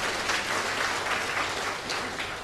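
Audience applause at a comedy pattimandram debate, a steady dense round of clapping from a crowd throughout.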